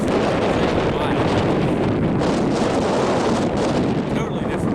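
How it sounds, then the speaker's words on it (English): Strong wind buffets an exposed high ridge on Raven Ridge Trail in West Virginia's Dolly Sods Wilderness, roaring steadily and loudly close to the microphone with constant gusty rumble and no pauses. "Unsurprisingly, it's a little windy out."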